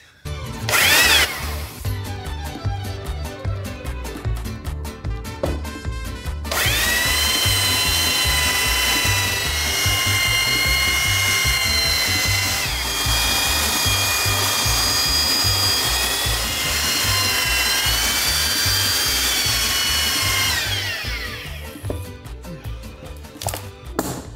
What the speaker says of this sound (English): So what I need to do is sand it down.